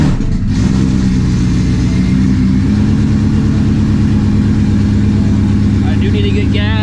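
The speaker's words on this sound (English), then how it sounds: "So let's go a little startup, not a cold start." A Shelby GT350 engine runs loud and close, a deep steady rumble held throughout with no audible crank or change in pitch.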